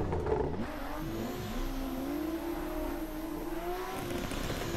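A Toyota Supra A90 drift car in a racing video game revs its engine hard, a steady rising and falling mid-pitched whine that holds for several seconds with faint tire noise.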